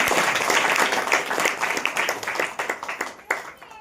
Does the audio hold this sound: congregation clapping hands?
yes